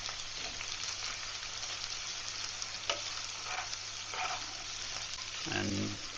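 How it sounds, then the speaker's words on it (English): Onions frying and caramelising in a hot, well-worn pan, a soft steady sizzle broken by a few scrapes and clinks of a metal spoon as they are stirred, with a louder burst of sizzling near the end. "we'll caramelise the onions a bit"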